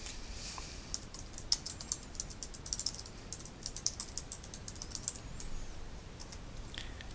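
Quiet, rapid typing on a computer keyboard, with crisp individual key clicks in irregular bursts and a few louder taps, near and alone with no talk.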